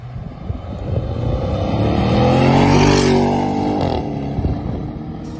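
An Audi S7 fitted with a modified exhaust and wheel spacers revs loudly up to a peak and falls back, a single close, strong engine surge with wind noise, no talking.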